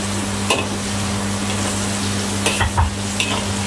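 A pounded paste of garlic, shallot, ginger, black pepper and fine cumin sizzles steadily in a hot pan, with a few louder scraping stirs near the start and end over a constant low hum.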